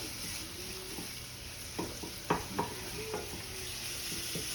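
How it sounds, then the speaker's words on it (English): Chicken frying in a pan with garlic and onions gives a steady soft hiss, broken by a few sharp scraping and clinking stirs of a utensil. "Está cocinando el pollito."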